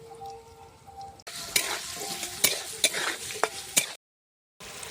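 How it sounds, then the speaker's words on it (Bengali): Potato pieces fry with turmeric and salt in a hot pan, giving a loud dense sizzle broken by sharp scrapes and knocks of a stirring spoon, with a brief silent gap near the end. "এইদিকে আমার আলুটা ভাজা হোক,"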